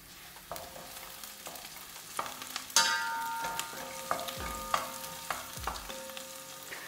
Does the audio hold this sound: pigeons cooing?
no